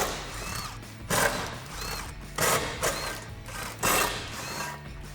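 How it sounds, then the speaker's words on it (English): An impact gun fitted with a 13mm socket rattles off the brace bolts on a 2016-2023 Camaro SS, in three or four short, close, buzzing bursts with brief pauses between them. "So I'll get a 13mm socket on an impact gun to get these off."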